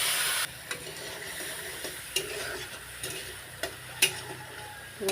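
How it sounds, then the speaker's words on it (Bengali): Mustard paste and green chilies sizzle in a hot pan, a steady frying hiss with a few sharp stirring clinks and scrapes scattered through, close and moderately loud, with no talking. "দেখছো সর্ষে বাটাটা দিয়ে দিচ্ছি।"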